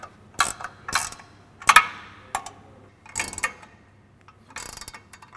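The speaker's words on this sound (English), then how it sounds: "So grab an 18mm wrench and we'll tighten these guys down." An 18mm ratcheting wrench tightens bolts on a Raid front bumper on a 2016 or later Toyota Tacoma, sharp clicking bursts of ratchet pawl in several separate close strokes with short pauses between.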